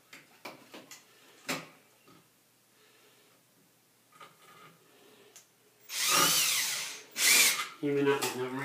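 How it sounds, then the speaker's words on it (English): A power drill driving screws during a bathroom remodel, with scattered taps and faint handling early, then two loud whirring bursts that rise in pitch as the screw is driven, followed by a shorter spin. "I'm putting these screws in,"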